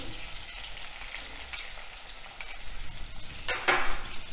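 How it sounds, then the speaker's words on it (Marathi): Spices and peanut powder sizzling and being stirred in a pan over a low flame for stuffed brinjal, with a steady frying hiss, soft spatula scrapes and a louder stirring flurry near the end. "थोडीशी कोथिंबीर घालायची आणि एकसारखं हलवून घ्यायचं"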